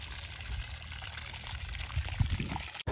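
Steady rushing of water gushing continuously from an irrigation pipe into a field, close by, with a low rumble underneath and a brief cut near the end.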